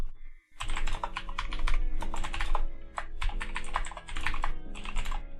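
Fast typing on a computer keyboard during a live networking switch configuration session: dense, close, crisp key clatter in quick bursts with brief pauses, loud and alone.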